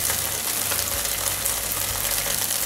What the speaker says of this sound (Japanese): みじん切りの長ネギ入れる